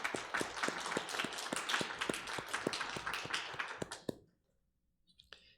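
A church congregation at a Sunday Mass claps for Father's Day, a steady patter of many hands with sharp individual claps, close and fairly loud, stopping abruptly near the end with a single stray clap afterward.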